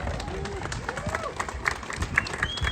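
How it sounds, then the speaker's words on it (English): Scattered applause and clapping ripple through the audience at an International Mount Everest Day ceremonial street naming in New York, fairly faint and uneven, with crowd chatter and voices mixed in. "Let's give them a big round of applause."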